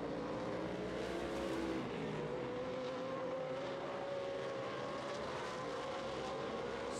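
Pro 4 off-road race trucks roar steadily at the Crandon World Championship, a loud, continuous engine drone with a sustained whine that rises slightly, no voices over it.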